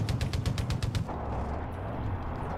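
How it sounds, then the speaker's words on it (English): Rapid rhythmic bursts of gunfire-like booms from mortar fire in the video game Far Cry 5, about eight sharp thuds in quick succession, then fading into a low rumbling ambience. "Why do I hear mortars?"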